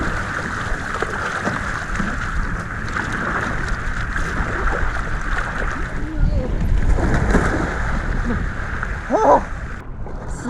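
Someone paddles a 125-litre windsurf freeride board on a lagoon, with water sloshing and splashing against the board under steady wind rumble throughout.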